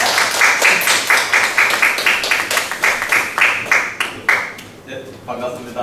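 An indoor audience claps to welcome a speaker to a family-life lecture, the clapping loud, close and in a rhythmic, pulsing pattern before it fades out near the end.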